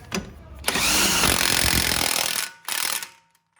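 A Prius axle nut on a 2010-2015 model is driven tight with a loud, sustained power-tool whir lasting nearly two seconds, then a second short burst, close up and with no talk.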